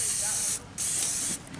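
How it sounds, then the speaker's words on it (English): Cooking spray hisses steadily while coating the inside sides and bottom of a Dutch oven at a campground, in two close, loud bursts with a brief pause between them. "we're going to go ahead and line the Dutch oven with spray. Nice little coating of spray all around the sides and the bottom."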